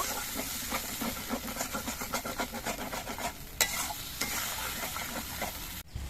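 A spice paste fries in a pan, hissing and sizzling steadily while it is stirred in a quick, regular scraping rhythm, with no one talking.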